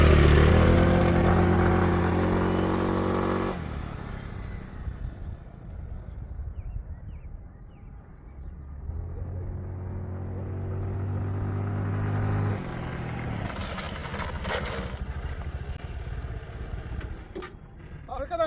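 A scooter motorcycle riding and braking to a stop during a braking test: engine hum and rumble that fades and then rises again, with someone talking over it at the start and later.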